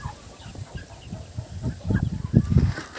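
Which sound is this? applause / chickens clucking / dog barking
chickens clucking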